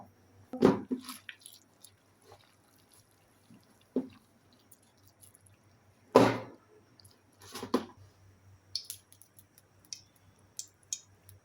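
Potato pakora batter being stirred with cornflour and flour, a few sparse, soft wet squishes and clicks spaced out over quiet pauses, close and faint, with no voices.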